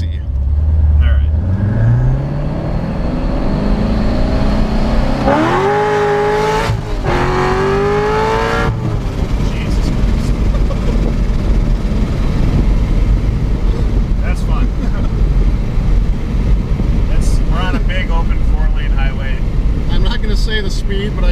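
A 900-horsepower C7 Corvette Stingray engine in track mode roars loudly and continuously, revving up with rising pitch early on, then holding a deep, rumbling drone close by.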